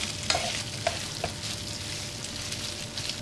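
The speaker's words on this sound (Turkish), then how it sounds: "Pirinçlerimi şimdi iyice kavuracağım." Rice sautéing in a pot for pilaf gives a continuous soft sizzle with a few sharp scraping stirs of a utensil, close and steady throughout.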